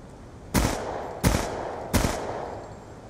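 Three evenly spaced bursts of SMG fire with the FMJ attachment ring out in Black Ops 2 hardcore mode, each a sharp loud report with a short decaying tail.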